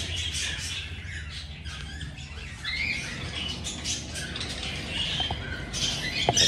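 Birds squawk and chirp in short, scattered bursts as they are put into a carrier, with shuffling and handling noises nearby.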